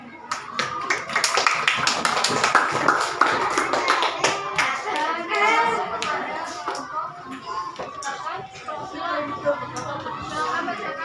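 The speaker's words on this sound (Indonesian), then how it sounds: "Tepuk tangan dulu." Students in a classroom clap their hands together, a burst of fairly loud, uneven clapping that tapers into scattered claps and taps while people talk and shuffle around.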